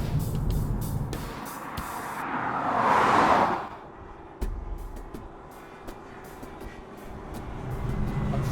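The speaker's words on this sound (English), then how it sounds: "Finally driving the Infiniti G37S." An Infiniti G37S car driving, a steady road and engine rumble that swells to a louder whooshing peak before settling, with intermittent clicks and ticks over the continuous drone.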